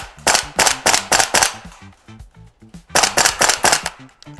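A VFC AV74M (AK74M) gas blowback airsoft rifle fires BBs in two loud, close bursts of rapid sharp cracks with mechanical clacking, separated by a short pause.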